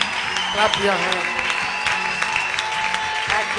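A church congregation clapping their hands together in a dense, lively patter mixed with crowd noise, steady throughout, while a voice speaks over it.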